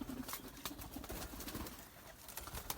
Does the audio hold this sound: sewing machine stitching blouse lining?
no